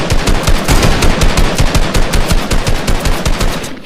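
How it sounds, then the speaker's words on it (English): Rapid automatic gunfire in a video game, a dense, loud stream of shots fired in quick bursts, nearly unbroken throughout, with no talking. "So I start hearing the gunshots,"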